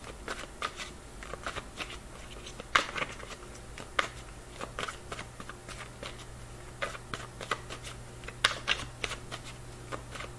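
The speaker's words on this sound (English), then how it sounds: "shuffle the cards a little bit better than that" Tarot cards are shuffled in quick, papery riffles and soft slaps, coming in irregular bursts close by, with no talking.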